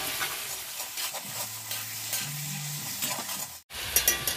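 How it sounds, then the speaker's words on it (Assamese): Potatoes and ash gourd fry together with duck meat for a traditional Assamese curry, making a quiet, continuous sizzle with soft stirring sounds and a low hum, without speech. "আলু আৰু কোমোৰাখিনি অলপ টাইম ভাজি ল'ম"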